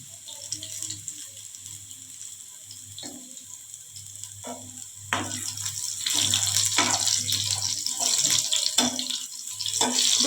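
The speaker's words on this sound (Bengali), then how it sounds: "একটু ভালো করে নেড়ে দিচ্ছি, এতে পুরো রসুনটা ভাজা ভাজা হয়ে যায়" Garlic, black cumin and dried red chilli fry in oil in a kadai, giving a continuous close hissing sizzle that grows louder midway, with a few scraping stirs and no speech.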